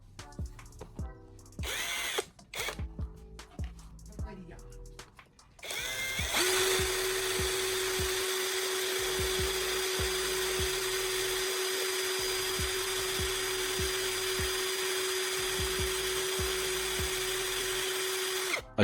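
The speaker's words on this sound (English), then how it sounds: "I'll insert the carbon rod into my drill and use a piece of sandpaper to meticulously sharpen" A drill whirs in short intermittent bursts, then runs continuously with a steady high whine and gritty grinding as a carbon rod spinning in it is sharpened against sandpaper.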